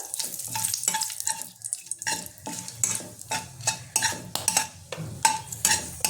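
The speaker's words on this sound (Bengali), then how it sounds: "এই তেলেই আমি এবার ফোড়নটা দেবো। দিয়ে দেবো গোটা গরম মশলাটা, দুটো তেজপাতা" Whole garam masala and two bay leaves crackle and spatter in hot oil as a spoon scrapes and stirs the pan, producing a dense, steady sizzle with repeated close metallic clinks and no talking.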